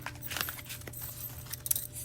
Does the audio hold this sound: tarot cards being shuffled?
yes